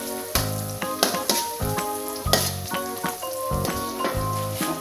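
Rice and garlic fry together in a pan for village-style nasi goreng. The sizzle is close and steady, and repeated stirring scrapes and clatters run through it with no talking.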